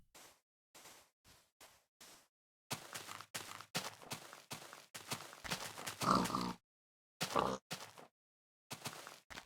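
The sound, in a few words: pigs oinking in Minecraft, from a video game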